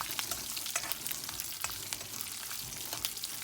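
Spices sizzle in hot oil in a pan for a cucumber palya, a steady close frying hiss with brief crackles and faint stirring scrapes.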